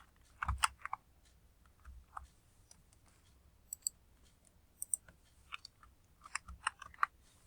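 Fingers tap out scattered keystrokes on a computer keyboard, sparse quiet clicks in small clusters over a faint background, with no talk.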